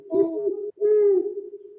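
A large owl outside gives two low, hollow hoots, each drawn out and moderately loud, close enough to stand clear of the quiet night.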